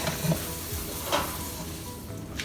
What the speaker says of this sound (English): And then you will give the noodles and veggies a mix